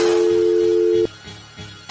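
A telephone is dialed: a steady dial tone plays, then short key presses follow, clear and close with no voices.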